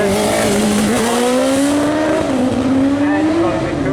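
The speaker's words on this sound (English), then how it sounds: "we now have number 353, Colin Carter, Suzuki GSXR 1000cc's. Running on nitrous" Suzuki GSXR 1000cc motorcycle running on nitrous roars past at a seaside speed trial, a loud sustained engine note rising steadily in pitch over four seconds with crowd ambience beneath.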